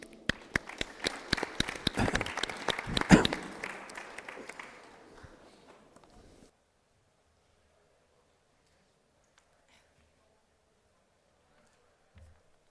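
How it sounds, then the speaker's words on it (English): Scattered applause for panelists at a football summit main stage, a handful of sharp claps building then fading out, followed by near silence with a faint thump near the end. "please join me with a big round of applause for the panelists"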